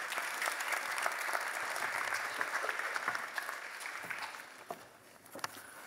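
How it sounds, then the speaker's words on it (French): Audience applause for architect and urban planner Antonella Tufano at a national design study day in Tours: dense, steady clapping from a crowd that thins slightly toward the end. "Merci d'applaudir Antonella Tufano."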